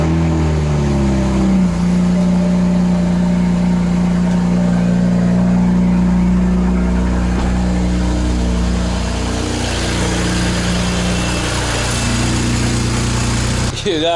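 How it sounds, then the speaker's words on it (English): A six-speed BMW 135i with the N54 twin-turbo engine cold-starts after its wastegate solenoids were replaced, cranking and catching, then flaring into a loud high idle that gradually settles lower, close by. "Let's do cold start, my favorite."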